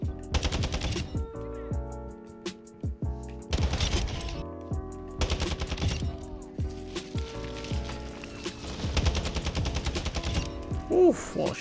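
Rapid automatic gunfire from Modern Warfare II multiplayer comes in several loud bursts, with heavy reports and sharp cracks that repeat across the stretch over game music and effects.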